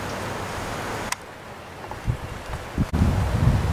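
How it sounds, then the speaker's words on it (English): Strong wind buffets the microphone outdoors beside a garage on a very windy day, near a parabolic solar oven cooking soup. Steady rushing rumble with a few sharp thumps and a louder gust at the end, no voices. "Because today's a very windy day."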